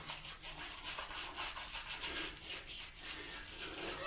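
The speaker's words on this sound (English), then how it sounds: "I'm going to use the shaving brush on my face now to apply some more lather" Shaving brush worked over a lathered face with Palmolive cream, a steady close bristly rubbing and swishing that continues with a few swells and no pauses.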